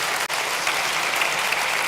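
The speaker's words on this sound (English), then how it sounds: "big applause to our excellent speakers" Audience applause for speakers at the end of a panel discussion at an energy policy conference, a steady dense wash of clapping filling the hall for about two seconds.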